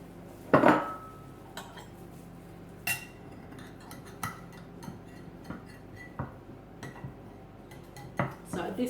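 Hot keto rhubarb crumble with a golden-brown top being dished up, a spoon clinking and scraping against the dish in a loud first knock, then lighter scattered taps and scrapes at close range.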